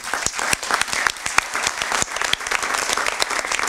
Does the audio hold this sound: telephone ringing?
no